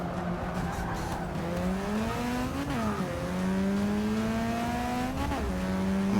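A Mazda race car in the Forza 6 racing game drones with a steady engine tone that climbs and drops as it revs and shifts, close and continuous with no talking.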